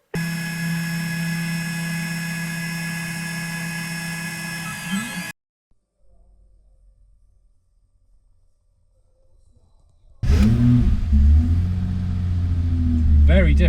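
A BMW E30 engine idles loudly while warming up, a steady rumble that cuts out abruptly midway, falls to near silence for several seconds, then returns at full strength.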